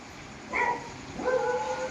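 A dog lets out two short, high, whiny barks, about a second apart, fairly close.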